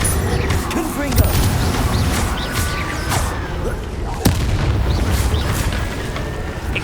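Confringo blasting spell going off in Hogwarts Legacy, with booming bursts and a couple of sharp blasts around one and four seconds over a busy, dense game mix where a voice calls out spells.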